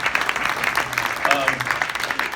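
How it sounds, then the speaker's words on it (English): A burst of applause, steady clapping from an audience with voices mixed in, over a couple of seconds. "All right, big round of applause for Mathew Thomas."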